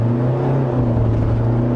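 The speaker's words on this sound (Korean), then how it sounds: "한번 가속을 해보겠습니다." A SsangYong Rexton diesel SUV accelerates hard from a standstill, heard from inside as a steady, loud, droning engine note throughout.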